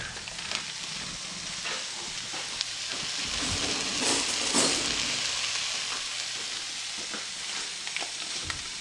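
Butter sizzles in a pan with rice and corn: a steady, close, dense frying hiss with brief louder crackles and stirring scrapes, and no talking.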